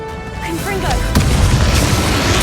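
A Confringo blasting spell goes off in Hogwarts Legacy, a loud booming explosion that swells after a rising magical whoosh and rumbles on to the end, with game music tones at the start.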